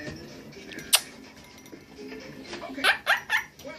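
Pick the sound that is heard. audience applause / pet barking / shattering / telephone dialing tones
pet barking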